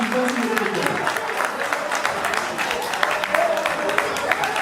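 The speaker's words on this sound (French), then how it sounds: "Doumbia Enza, ça s'applaudit très fort." Audience clapping steadily at a ceremony honouring retired mothers in Côte d'Ivoire, a dense continuous patter of hands with a voice sounding over it.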